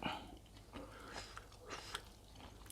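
Bites and chewing of fresh raw vegetables eaten alongside rice noodles in crab sauce, a series of soft close crunches and mouth sounds with faint background hiss and no talk.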